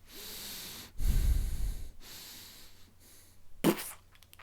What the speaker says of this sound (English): I'm consciously breathing in and out through my nose, okay, but keeping the air in my cheeks.